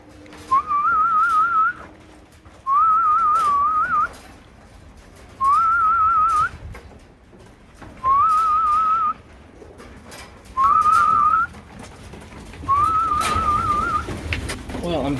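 Racing pigeons arriving home after a 10 km training toss, with six repeated whistled call-like phrases, each about a second long, sounding fairly close over a quiet background.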